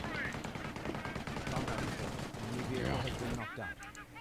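Rapid bursts of machine gun fire in the Company of Heroes WWII strategy game, Hochwald Gap map, loud and sustained, mixed with other battle noise while a player talks over it.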